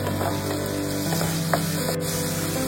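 Chili powder and spices for chole sizzle in hot oil with a dense, continuous frying hiss and a few small ticks, close and steady throughout.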